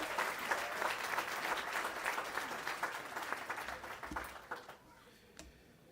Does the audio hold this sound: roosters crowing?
no